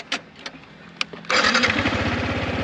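A Yamaha R15 V4 motorcycle is started after a few short clicks and taps, then the engine catches and settles into a loud, close, rapid idle putter.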